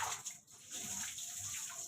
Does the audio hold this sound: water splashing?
yes